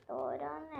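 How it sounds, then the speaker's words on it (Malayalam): A pet dog gives a short, whiny bark, close and fairly quiet, lasting under a second, while a person speaks briefly. "ഇപ്പോൾ എൻ്റെ പട്ടി കുരയ്ക്കുന്നുണ്ട്."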